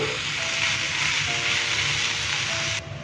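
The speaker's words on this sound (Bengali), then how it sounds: "একটু নেড়ে চেড়ে মিশিয়ে নিচ্ছি।" Mixed leafy greens fry in a pan, a steady loud sizzle with faint scraping as they are stirred, cutting off abruptly near the end.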